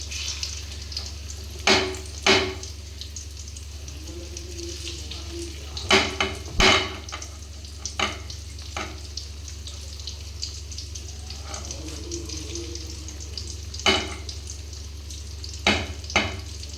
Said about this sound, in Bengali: তারপর এটা ভাজা হবে ঠিকভাবে